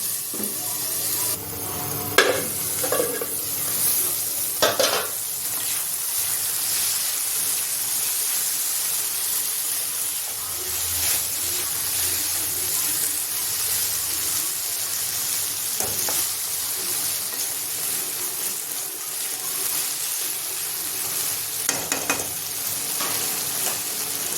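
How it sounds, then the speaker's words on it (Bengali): Whole coriander seeds, cumin and two dried red chillies fry in hot oil with a steady, loud sizzling hiss that lasts throughout. Occasional pops and stirring clinks sound up close, with no speech. "আমি কিছু গোটা মশলা ভেজে নিচ্ছি, ধনে, গোটা জিরে, দুটো শুকনো লঙ্কা"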